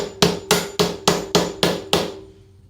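An engine valve is driven back into place with a hammer through a wood block. Seven evenly spaced, sharp, ringing blows land close and loud, each with a short metallic decay.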